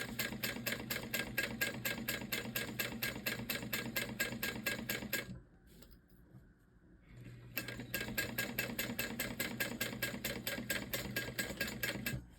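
A sewing machine runs a basting stitch along a bag flap, a fast, even mechanical chatter that stops briefly in the middle and then resumes at the same steady pace.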